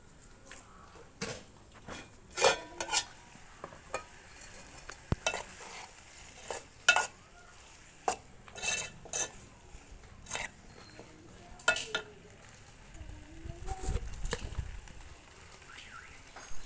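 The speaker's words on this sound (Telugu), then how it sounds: "ఇదంతా మంచిగా కలుపుకొని మగ్గించుకోవాలి." Spicy boti (tripe) curry being stirred in a pot, with intermittent scraping and clinking of a spoon against metal in irregular bursts over a low simmering background, close and moderately loud.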